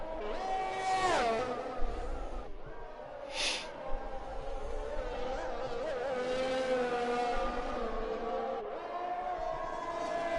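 Race car engine on a flying lap in a racing video game, a high whining note climbing and dropping through gear shifts and corners, with a commentator's voice running over it.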